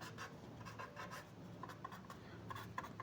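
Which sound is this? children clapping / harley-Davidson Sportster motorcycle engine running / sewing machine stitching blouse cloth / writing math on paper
writing math on paper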